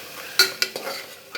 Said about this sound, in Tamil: இப்போ நம்ம போட்ட இதெல்லாம் நல்லா வதங்கிட்டு இருக்கு.